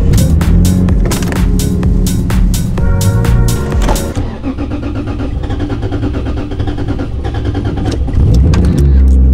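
A Ford EF Falcon with a Barra engine is driven out of a garage, its engine running loud and steady at close range throughout, with a rise in revs near the end.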